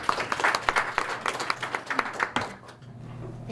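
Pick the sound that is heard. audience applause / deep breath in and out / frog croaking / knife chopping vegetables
audience applause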